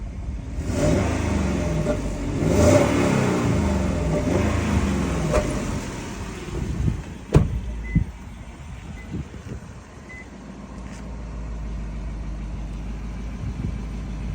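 A Lexus LX460 4.6-litre engine runs with a steady idle and brief revs at the start of a hydrogen carbon-cleaning procedure, with a faint electronic beep and some clanks in a workshop.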